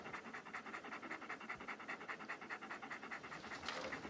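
A big dog pants rapidly and rhythmically up close, a steady run of quick breathy huffs that ends with a sudden loud bump.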